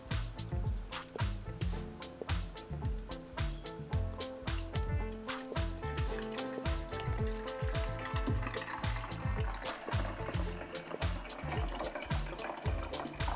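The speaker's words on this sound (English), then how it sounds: "I'm going to transfer what's left for washer fluid from this one into this guy" Washer fluid pours and glugs from one container into another during work on a Mazda RX-8, a steady trickling and gurgling liquid stream that continues for the whole stretch, close and fairly loud with no voices.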